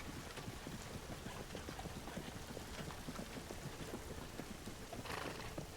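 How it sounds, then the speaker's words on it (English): In an audio drama scene, horses pull a cart through steady rain, their hooves clip-clopping in a continuous rhythm under the constant hiss of rainfall, with a brief whinny, all heard at a moderate distance without voices. "the horses begin to sort of fade away and the rain remains"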